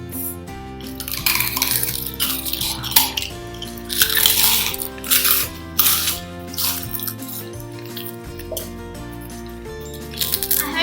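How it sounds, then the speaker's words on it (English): Homemade prawn crackers are picked up with chopsticks and eaten, giving sharp clicks and taps against a dish with bursts of crisp crunching, close and intimate, over a soft background of music. "Now let's try our prawn crackers with chopsticks"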